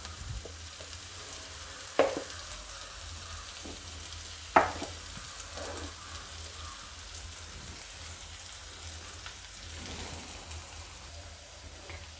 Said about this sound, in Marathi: आता कांद्याला पण आपल्याला थोडंसं लाल करायचं आहे।